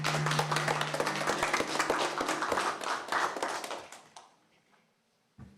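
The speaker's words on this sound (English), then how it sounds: "should we give him a round of applause?" Applause from the audience at a school board of education meeting, a dense run of clapping that holds for about four seconds and then trails off quickly into near silence, with a brief thump at the very end.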